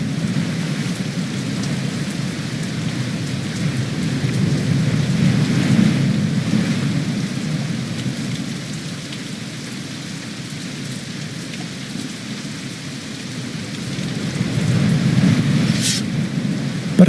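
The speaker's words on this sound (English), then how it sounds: "Thanks for the rain, Efford." Steady rainfall with rolling thunder in a fantasy adventure game's storm, a continuous wash of rain over a low rumbling bed that swells twice, with a brief sharp crack near the end; no talking.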